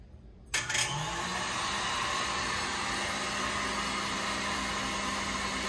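An electric mixer fitted with a whisk whirs steadily while churning homemade butter, starting abruptly with a clunk and then running at a constant loud, even drone.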